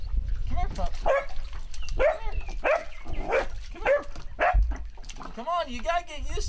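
A young dog at a lake, out on a jig-fishing trip, gives repeated yelping barks and whimpers in uneven bursts close by, while a man keeps calling to it.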